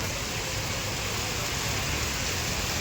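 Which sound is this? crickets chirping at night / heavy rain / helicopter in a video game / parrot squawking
heavy rain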